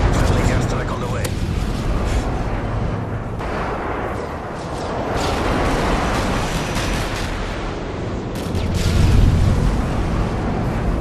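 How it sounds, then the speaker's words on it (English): Friendly airstrike explosions in a military shooter video game: heavy, rolling booms and rumbling blasts swell and fade continuously, with muffled game voices mixed in beneath the barrage. "Friendly airstrike on the way."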